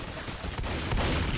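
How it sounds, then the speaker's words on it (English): Shotgun discharged in Left 4 Dead amid heavy zombie combat, a loud close blast within a constant wash of gunfire and chaotic noise. "Sorry, I accidentally discharged my shotgun."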